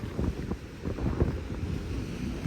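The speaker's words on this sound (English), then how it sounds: "Okay, it's gonna be a big wave." Ocean surf surging against the rocky Oregon coast, a broad, rumbling wash of water with gusty wind buffeting the microphone, steady and fairly close throughout with no speech.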